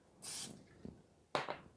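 Pam cooking spray sprayed onto a preheated Ninja Foodi Sear'NSizzle grill plate, two short hissing bursts, the second followed by a quick extra puff, with faint handling noises between them.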